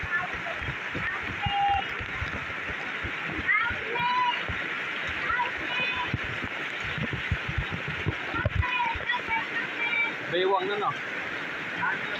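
Floodwater from heavy rain splashes and sloshes steadily while people talk loudly nearby, with occasional small thuds and squeaks.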